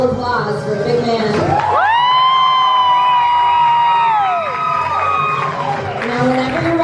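Restaurant crowd at BeetleHouse LA, a Tim Burton-themed bar, bursting into cheering, whoops and applause after a countdown, loud and close, with a sustained sung or shouted tone running through the middle of the noise.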